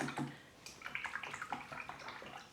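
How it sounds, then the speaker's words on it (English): Watercolour brushes being washed in a water jar, with soft sloshing, swishing and small splashes that come in short bursts close by, with no talk. "just wash a couple of the brushes"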